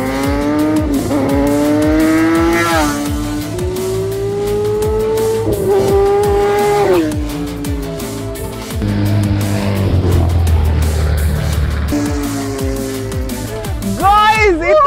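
A Kawasaki Ninja ZX-10R motorcycle and a Porsche car race hard, engines screaming loud and close with repeated rising and falling revs through gear changes and a deep rumble partway through.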